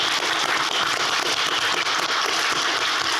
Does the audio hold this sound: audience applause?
yes